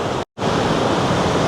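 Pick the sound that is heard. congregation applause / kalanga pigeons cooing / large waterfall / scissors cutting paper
large waterfall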